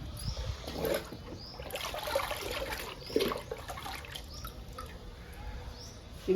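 Liquid fertilizer trickles and drips onto a potted philodendron houseplant indoors, a soft wet dribble with a few louder splashes at intervals, close by and alone.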